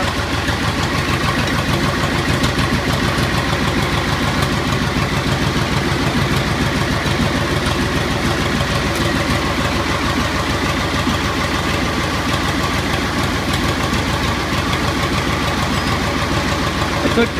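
A 1984 Agri-Power 5000 tractor, a Zetor 5011, idles just after starting, its diesel engine chugging in a steady, even rumble that stays close and loud throughout, with a voice talking over it at times.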